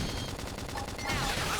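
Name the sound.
gunfire in video game Xenoblade Chronicles X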